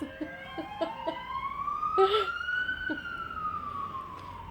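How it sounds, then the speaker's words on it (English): A siren wails past, its long rising and falling tone sweeping by over some scattered clucks and faint background noise. "You just hear the sirens going past my house."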